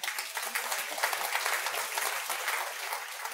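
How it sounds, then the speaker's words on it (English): Congregation clapping at a church service during a sermon, a steady dense patter of hands filling the room at moderate level, with no talk over it. "give the Lord a clap"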